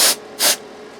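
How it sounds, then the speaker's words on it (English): Canned air sprays in two short, loud hissing bursts while a bass guitar is set up and cleaned, with a brief gap between the blasts and quiet afterward. "canned air."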